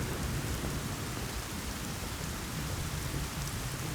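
Rain falls in a dense, steady hiss, unchanging and fairly soft, with no voices over it.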